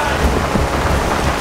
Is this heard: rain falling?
yes